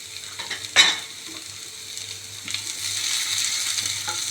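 Sliced onion frying in a pan, a soft steady sizzle with a sharp scrape of stirring near the start and further light stirring strokes, close and fairly quiet with no voices.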